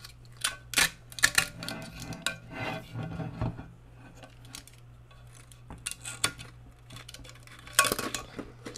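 Blade slicing the spider of a 1985 Kenwood LS-P9000D tower loudspeaker cone, heard as close scraping and rasping cuts in irregular bursts, with a low steady hum underneath and no talking.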